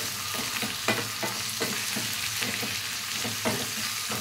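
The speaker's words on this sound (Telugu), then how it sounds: "వేగేటప్పుడు మనము కడుక్కున్న బంగాళదుంపలు వేసుకోవాలి ముక్కలు." Potato pieces and capsicum frying in oil in a pan, a steady sizzle broken by repeated scraping stirs and clinks of a spoon, close and fairly loud, with no talk.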